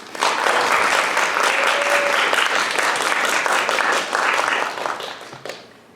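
Sustained applause from a student and teacher audience welcoming panelists at a design panel discussion at the Boston Arts Academy. The clapping is steady and dense, then fades out near the end.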